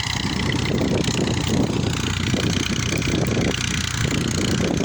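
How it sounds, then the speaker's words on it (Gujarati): Massey Ferguson 241 tractor pulling a harrow through farmland, the engine droning continuously at close range with a dense, even roar and slight pulsing, no voices over it. "અને દાંતીમાં જોરદાર ટ્રેક્ટર હાલે છે મેથી ફર્ગ્યુસન બસો એકતાલીસ"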